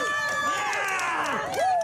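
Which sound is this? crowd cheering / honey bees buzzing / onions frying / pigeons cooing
crowd cheering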